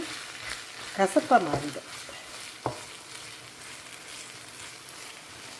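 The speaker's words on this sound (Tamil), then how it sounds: "அதாவது சிறு தீயில் வச்சு கொஞ்சம் கொஞ்சமாக பரட்டி ஃப்ரை பண்ணிக்கிட்டே வரணும்" Shark fish puttu fries slowly in a pan over a low flame, with a soft steady sizzle and a few brief stirring scrapes near the start. A voice speaks faintly over it.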